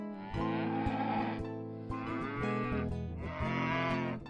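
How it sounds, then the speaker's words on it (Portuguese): A cow moos three times in long, loud, drawn-out calls separated by short pauses, the lowing voiced and resonant with no talk over it. "Minuciosa entrou na discussão, mugindo todo tipo de mugido que conhecia."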